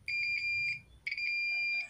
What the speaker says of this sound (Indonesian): LED menyala dan buzzer berbunyi